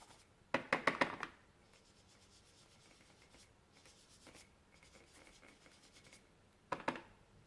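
An ink blending tool brushes lightly across paper during a Versamark and ink background technique, giving short soft scrubbing bursts at the start and end with quieter rubbing between.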